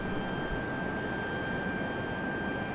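Southwest Airlines jet airliner at Raleigh-Durham airport, a steady distant engine roar with a high whine, continuous and even throughout.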